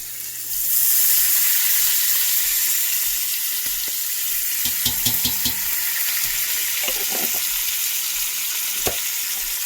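Fresh garlic sizzling steadily in a hot pan, a bright continuous fry noise that starts after a moment and holds loud, with a few soft clinks and stirring knocks partway through, cooked as a base for razor clams.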